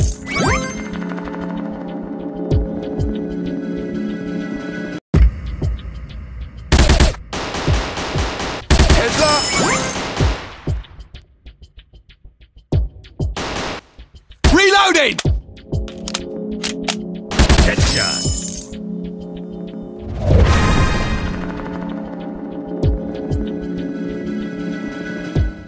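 Rapid bursts of gunfire from the Android first-person shooter Hero FPS Shooter, loud volleys and single shots repeating in clusters with gaps between, over a steady game hum and occasional chimes.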